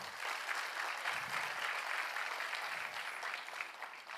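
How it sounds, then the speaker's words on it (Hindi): An audience at a talk by a cyber expert breaks into steady, dense applause, heard fairly faint and somewhat distant, fading slightly at the end. "ताली बनती है भाई"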